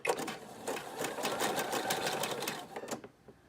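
A Husqvarna Viking Ruby Royale sewing machine stitches a button on, giving a close, fast buzzing rattle of needle strokes for about three seconds before stopping.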